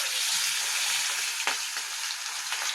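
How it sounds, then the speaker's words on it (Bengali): Pieces of fish frying in hot oil in a wok, a steady close sizzle with brief crackling bursts as pieces hit the oil, no talk over it. "দেখো তেলটা গরম হয়ে গেছে, এবার আমি একটা একটা করে মাছ ছেড়ে দিচ্ছি"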